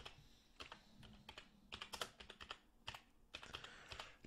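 Close, quiet typing on a computer keyboard with caps lock on, a run of crisp individual keystrokes in irregular bursts with short gaps, heard alone.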